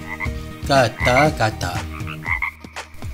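A toad croaks in several loud, close, throaty pulses with pauses between them, alongside a few brief spoken words.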